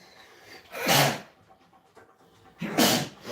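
Two sharp sneezes, about two seconds apart, close and fairly loud with no talking.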